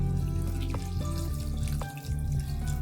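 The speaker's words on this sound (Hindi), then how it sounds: "ये पानी डाल देना है इसमें" Water is poured into a bowl of dried figs, dried plums, apricots and raisins. A steady splashing trickle with a few drips sounds close and alone.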